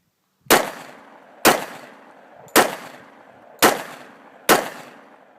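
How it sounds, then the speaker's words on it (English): A Springfield XDs compact .45 ACP pistol firing Hydra-Shok rounds: five sharp, loud, close shots, evenly spaced about a second apart. Each crack rings out and decays briefly, with no talking. "I loaded 5 rounds of the Hydra Shock in here, which is what the"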